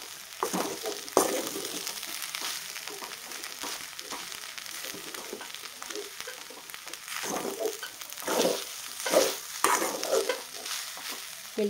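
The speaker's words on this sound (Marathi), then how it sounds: "आपल्याला हा भात आहे पूर्ण फोडून घ्यायचा आहे." Leftover cooked rice is stir-fried with a spicy tempering and moong dal husk, a spatula scraping and breaking up the rice in a pan over a soft, steady sizzle, with irregular stirring strokes close by.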